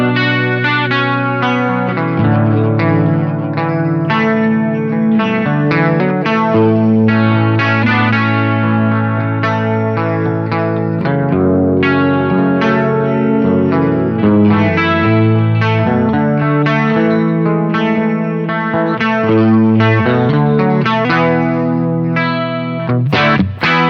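An electric guitar runs through a Boss GX-10 with chorus and plate reverb, aiming for a mid-1980s tone. Loud, shimmering strummed and picked chords play continuously on their own.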